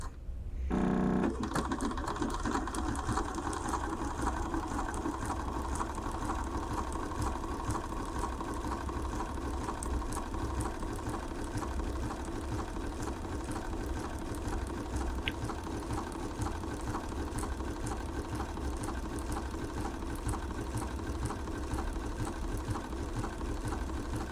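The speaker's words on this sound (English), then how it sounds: "And we're ready to keep sewing on our project." A Bernina sewing machine stitching continuously at a steady, even speed, its close, rapid mechanical whir running unbroken throughout with no talking.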